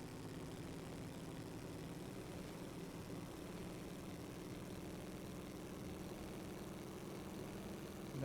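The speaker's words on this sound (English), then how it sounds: "let you hear and enjoy the sound of the engine" A 1923 Grand Prix race car engine in the Assetto Corsa racing game gives a steady, buzzing drone at constant strength, with no speech over it.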